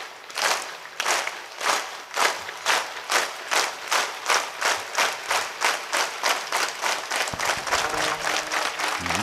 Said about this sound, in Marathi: एक हात वर एक हात वर एक एक एक टाळी